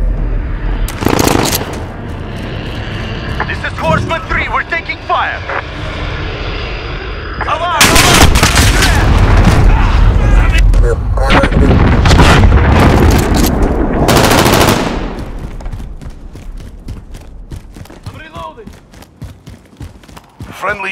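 Heavy gunfire and explosions from a Call of Duty: Modern Warfare shotgun match, loud and continuous with dense bursts, booms and rattling fire, under radio chatter and callouts.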